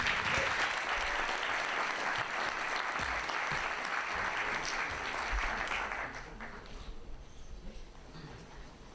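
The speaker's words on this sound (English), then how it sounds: "please give an applause to von Lundsgaard Hansen." A large audience applauds steadily for a scientific speaker, the dense clapping holding strong for about six seconds before thinning and fading toward the end.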